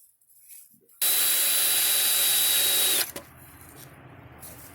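A power drill whirs loudly for about two seconds drilling a pilot hole, then stops abruptly, leaving quiet room sound.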